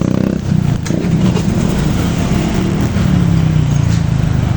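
A motorcycle engine revved with the throttle outdoors, a loud, close, continuous rumbling drone that swells and dips with each twist of the gas, with no talk over it.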